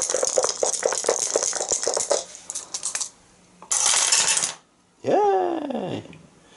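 Three dice rattle and tumble across a tabletop during a game of Arkham Horror third edition, a dense clatter of quick clicks, then short bursts of rolling with quiet gaps between.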